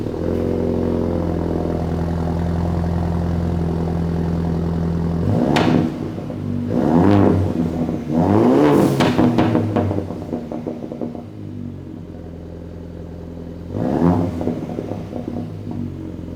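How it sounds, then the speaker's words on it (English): A 2019-2020 Ford Ranger pickup with a Borla S-Type cat-back exhaust idles with a deep steady drone, then revs sharply several times, each blip rising and falling back, with one more rev near the end. "Now we're gonna give you some sound clips with our Borla exhaust installed"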